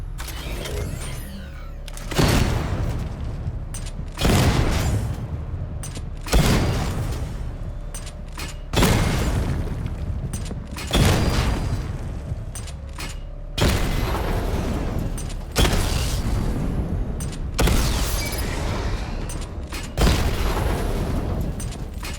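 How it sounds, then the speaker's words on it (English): Batmobile missile barrage launches in Batman Arkham Knight: about ten loud, evenly spaced whooshing booms roughly every two seconds, each trailing off under a mechanical hum. "Charge the missile barrage to level 2 to destroy up to 4 targets at once."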